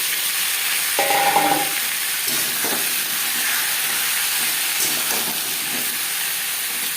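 Potatoes fry in hot oil with five-spice in a wok, a constant loud hiss and sizzle with a few soft scraping stirs under it and no talking.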